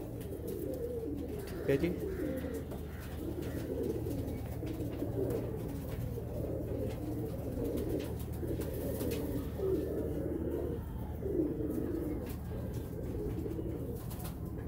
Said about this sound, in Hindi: डबल पलक का कबूतर है, ओझड़ी पलके हैं, गुलाबी चोच है